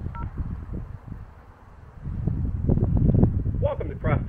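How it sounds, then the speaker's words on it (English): Tones of a VoIP telephone call placed on speakerphone over a Starlink connection, short beeps and ringing at the end under outdoor wind and rustling background noise. "So let's make a voice over IP telephone call."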